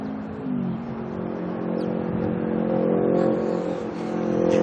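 A Jetstar passenger jet taxis at Auckland Airport, its engines giving a steady, fairly loud rumbling whine that swells gradually as it draws nearer.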